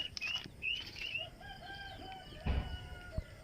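Wings of a large bird flapping in a couple of brief, close bursts in a cornfield, among chicken-like clucks and crowing in the background.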